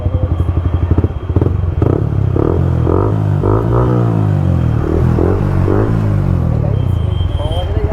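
A Yamaha R15 V3 motorcycle fitted with an Akrapovic full-system exhaust idles and revs with a steady, loud engine drone and rising and falling pitch, with voices talking over it.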